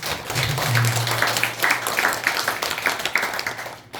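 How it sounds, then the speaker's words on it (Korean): A temple congregation applauds during a Baekjung Buddhist dharma service at Mireuksa: scattered, uneven clapping rises and falls in bursts. A low hum runs underneath, and there is no clear speech. "우리 큰 박수 한번 부탁드립니다."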